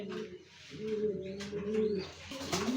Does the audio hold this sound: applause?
no